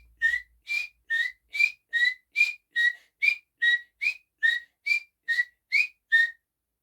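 A human voice imitates a bird song by whistling, with about fifteen short, evenly spaced rising chirps in a steady rhythm. The whistling is close, clear and alone against silence.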